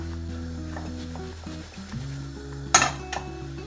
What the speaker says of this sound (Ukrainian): Обсмажуємо на сухій пательні, постійно помішуючи до набуття борошном золотавого кольору.